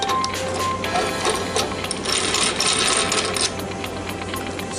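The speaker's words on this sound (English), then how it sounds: "all you need to do is to clamp your reel" Fishing reel being clamped and secured in a spooling machine, giving a dense, continuous mechanical clatter of ratcheting and gear-like rattling that stays loud throughout with no talking.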